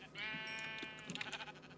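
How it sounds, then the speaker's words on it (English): A Minecraft sheep gives a single short, wavering bleat, close and clear, with nothing else heard around it. "we must say hello to our sheeps"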